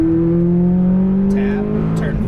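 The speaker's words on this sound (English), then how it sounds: "Right side, full throttle." McLaren 570S at full throttle on a Las Vegas race track, a loud engine note climbing steadily in pitch for about two seconds, close and dominant.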